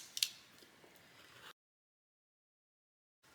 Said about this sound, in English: I'm just gonna cut out a piece.